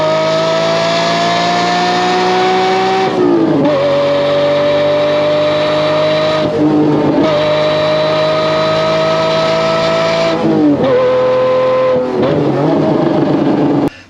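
A loud, naturally aspirated Lamborghini Murcielago V12 engine with a six-speed gated manual revs through the gears, pitch climbing steadily then dropping at each shift, a close, continuous howl with no talking.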